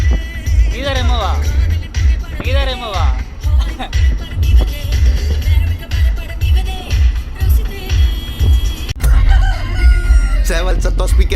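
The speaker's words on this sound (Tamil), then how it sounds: "சேவல் சத்தம் ஸ்பீக்கரை பொழக்குது" Two or three loud rooster crows ring out close by from a speaker over a rhythmic, thumping musical beat at a Murugan temple, with more crowing breaking in near the end.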